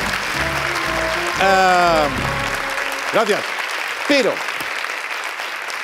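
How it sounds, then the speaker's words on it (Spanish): Studio audience applause on a Spanish late-night comedy show, a loud steady roar of clapping under the host's voice for about three seconds before it dies away and he carries on speaking. "Un aplauso para las carteras."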